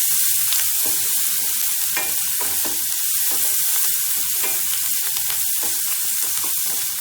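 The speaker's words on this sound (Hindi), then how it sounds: "अनियन को हम गोल्डन ब्राउन नहीं करेंगे, बस हल्का सा पकाएंगे इसको." Onions and green chillies frying lightly in oil with turmeric, a steady close sizzle with scattered crackles and soft stirring scrapes, no voices.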